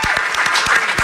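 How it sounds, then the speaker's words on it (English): An audience on a live radio show breaks into brief, dense applause, rapid claps close and loud for about a second. "give him a round of applause"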